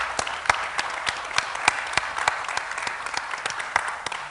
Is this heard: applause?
yes